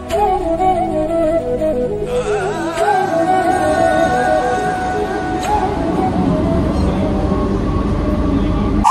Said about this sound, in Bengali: আমি ট্রেন জার্নি তোমাদেরকে দেখালাম